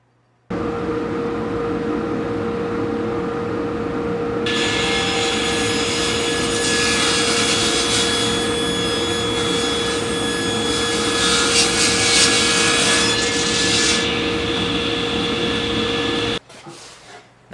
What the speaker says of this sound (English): Now we'll take it to the table saw and rip the edges.